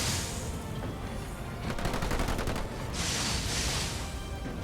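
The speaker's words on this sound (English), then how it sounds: "Looks like he's shooting the base itself." Rapid bursts of automatic gunfire and shots from units attacking a base in the real-time strategy game Halo Wars 2, with a burst in the middle and another toward the end over a busy battle bed.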